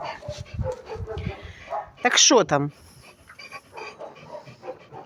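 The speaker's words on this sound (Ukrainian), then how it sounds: "Що там, собаки?" Two dogs play near people in Kushuhum, Ukraine, a sharp high whimpering yelp in the middle among panting and soft yips, with a person talking before it.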